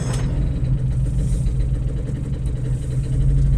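A Piaggio Ape three-wheeler's small engine runs steadily and loud throughout, a low continuous putter close by, with no talking.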